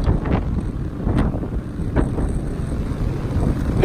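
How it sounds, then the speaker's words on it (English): A low, steady rumble of a Carnival Glory cruise ship's engine, about 15 decks below, and its smokestack exhaust carries over open deck wind buffeting on deck 11, continuous and fairly loud throughout. "the smokestacks that lead up to the big smokestack, and the engine is straight down about 15 decks"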